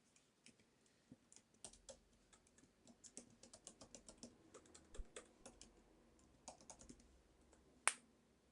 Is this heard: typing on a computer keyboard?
yes